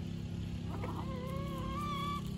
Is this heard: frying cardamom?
no